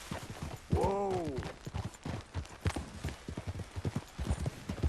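Steady clip-clop of horse hooves while riding in Red Dead Redemption 2, a rhythmic trotting beat running throughout, with a brief horse whinny near the start and faint game ambience underneath.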